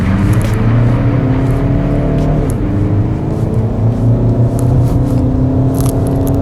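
A used 2016 Volkswagen Tiguan accelerates hard from a standstill, its engine a loud, close, rising rumble with a whirring edge heard from inside the car, steady and unbroken.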